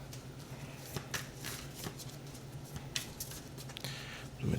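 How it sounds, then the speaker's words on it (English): Tarot cards being shuffled and spilling out of the deck, a steady papery riffle with several sharper slaps as cards fly loose, close and fairly quiet over a low hum. "Just a bunch of cards flew out."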